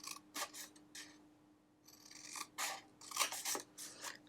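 Scissors snip through paper while an Easter treat box is being cut out, giving a series of crisp close cuts in quick bursts with a short pause in the middle.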